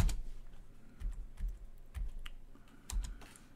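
A handful of close key presses on a computer keyboard entering vi commands on a PiDP-11 running 2.11BSD, separated by brief pauses, with soft clacks and a few heavier thumps, quiet and with no voices.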